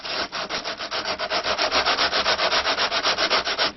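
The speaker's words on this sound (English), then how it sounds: "lay this against some sandpaper that's been clamped to a flat board, and we're just going to rock it at a slight angle" Metal fret ends of a stick dulcimer rocked against sandpaper clamped to a flat board, giving a steady rhythmic rasp of about two dozen even strokes, close and clear with no talking.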